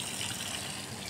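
Water is poured onto heat-wilted garden plants in a rooftop garden, a steady close gushing splash with no break.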